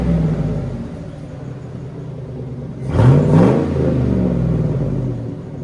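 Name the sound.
Hummer H2 6.2L V8 engine revving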